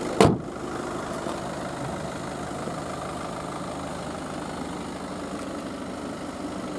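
A 2014 Audi A3 1.6 TDI Sport diesel engine idles with a steady, even rumble after a brief sharp knock at the start, the hum holding constant and close.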